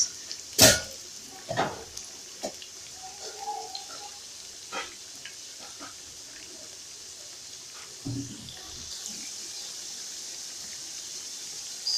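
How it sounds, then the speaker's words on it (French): Hot oil hisses in a steady, soft sizzle as plantain and cassava flatbreads fry, broken by occasional clinks and taps of a utensil against the pan. "L'huile de friture étant bien chaude, nous y déposons nos galettes."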